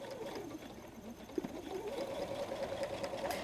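A sewing machine set to a 3.0 stitch length runs over the pocket pleats of a messenger bag, giving a steady close whirring hum that carries on without a break.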